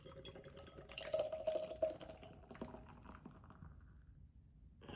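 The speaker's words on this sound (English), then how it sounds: "let's get to the pour." Run Wild IPA beer being poured, with a gurgling splash that rises for about a second, then a softer trickle and fizz that fade away.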